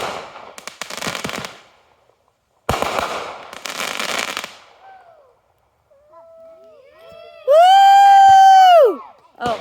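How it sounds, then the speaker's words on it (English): Backyard Canada Day fireworks at a house: bursts of crackling explosions with gaps between, then a loud whistling shriek, with people's voices reacting nearby. "this is the magic of the fireworks."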